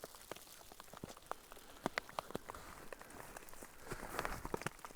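Hail patters on a tent at a motorcycle campsite, a steady spray of small irregular ticks and sharper taps close by, moderately quiet and continuous with no voices.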